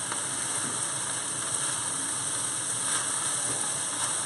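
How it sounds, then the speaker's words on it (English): Chicken fried rice sizzling in a pan as it is stirred, with spinach, carrots and corn mixed in, giving a steady, even hiss of frying throughout with no pauses. "So now we're just going to stir all this together."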